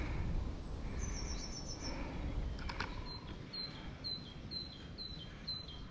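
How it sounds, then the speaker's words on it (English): A woodpecker in a pleasant wood beside a hiking track near Ardingly Reservoir and the Balcombe Valley viaduct gives a brief, fairly distant burst of tapping, with small birds chirping repeatedly over a low, constant outdoor rumble. "I can hear a woodpecker."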